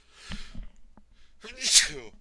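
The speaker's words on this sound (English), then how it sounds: "I'm going to sneeze." A single sharp sneeze bursts out after a few soft breaths and gasps, close and clear in an otherwise quiet space.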